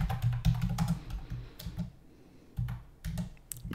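Rapid keystrokes on a computer keyboard come in clustered bursts of clicks, pausing briefly in the middle before the typing resumes, close and clear with no talking.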